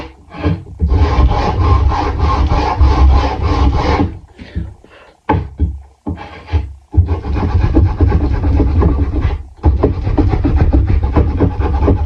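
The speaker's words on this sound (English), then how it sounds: "take my little sander and just kind of rub it over" A small handheld sander rubs over a wooden DIY valentine in loud, steady rasping bursts, pausing briefly a few times before resuming its gritty scraping.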